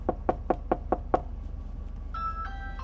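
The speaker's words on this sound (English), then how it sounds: "So I knocked one last time." Six firm knocks land on a door in an even, quick rhythm, close and clear, then a faint electronic chime sounds briefly after them.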